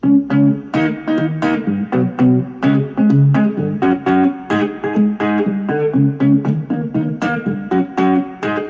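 A twangy, slightly distorted three-string cigar box guitar plays a bluesy riff with a slide-down turnaround, steady rhythm, close and loud with no talking.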